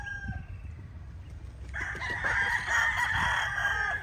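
A gray kelso gamefowl rooster, yellow-legged, crows loudly and close by in a long sustained call that starts partway through, with low clucking and farmyard noise underneath.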